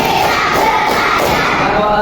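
Schoolchildren clap in unison in a classroom, a thick ongoing wash of many hands with a few lively voices mixed in.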